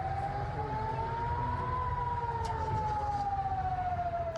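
An air raid siren wails steadily during a rocket attack in southern Israel, its single rising and falling tone sustained over a constant low rumble, loud and unbroken throughout.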